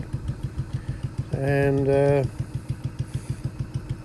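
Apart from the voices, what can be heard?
Case 224 garden tractor engine running while mowing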